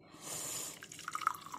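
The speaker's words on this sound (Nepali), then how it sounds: "पानी हालेर चाहिँ अन्डा बनाउँदैछु।" Water poured into a pot for egg soup with garlic and ginger, a short faint splash that starts with a soft rush and ends in a few bubbling, dripping plops.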